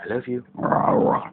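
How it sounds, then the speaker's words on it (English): A pet dog growls close up, a low rumbling snarl that follows a man's affectionate speech. "That's my dog."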